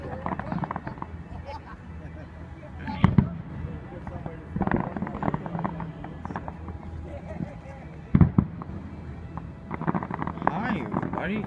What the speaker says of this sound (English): Here comes the fireworks again.